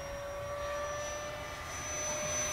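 An E-flite Habu SS 70mm electric ducted-fan RC jet flies at half throttle, giving a faint, steady turbine-like whine with a few sustained high tones over a soft airy hiss, heard alone at some distance.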